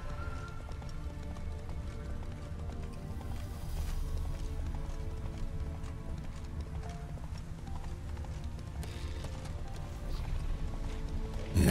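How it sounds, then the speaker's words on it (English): A horse-drawn merchant's wagon with heavy wheels rolling along in The Witcher 3, steady clip-clop of hooves over a continuous rumbling bed, moderately close and unbroken throughout. "Heavy wheels, a merchant's wagon."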